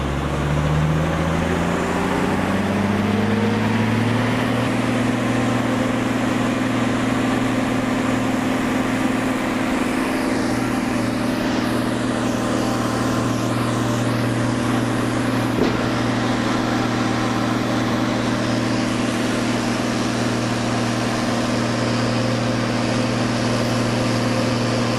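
A heavy machine's engine idles and climbs in pitch as it prepares to back off a trailer, a loud steady low rumble with a constant drone that continues alone for the whole stretch.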